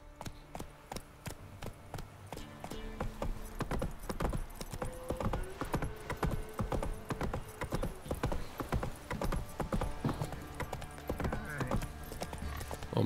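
Horse hooves gallop in The Witcher 3, a rapid, rhythmic clip-clop of steady beats that grows denser and louder, heard close with no talking.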